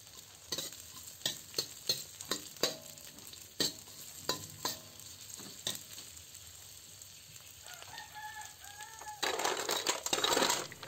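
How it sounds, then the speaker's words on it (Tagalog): Pounded lemongrass sautés in a pan, a quiet sizzle with scattered spoon taps and scrapes against the metal, growing busier and louder near the end, close by with no speech. "Gisahin lang natin yan ng mga 2 minuto."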